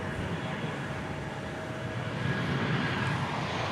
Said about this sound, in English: here is this 747-8, which is 10 years old